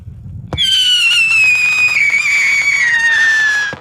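A firework whistles loudly at a motorhome encampment in the desert of Johnson Valley, a single long descending shriek following a sharp launch pop, close and alone.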